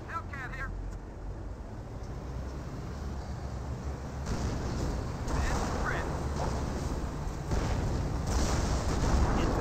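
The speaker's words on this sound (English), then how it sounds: "apparently he's also throwing some mortars in there. Some Panzer mortars." Panzer mortar barrage in the World War II strategy game Company of Heroes, with dense ongoing battle noise, rumbling impacts and bursts under continuous talking.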